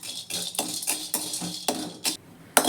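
Spices being dry roasted in a pan on a low flame, with a string of sharp, rhythmic scraping and clinking strokes from a utensil against the pan, close and fairly loud.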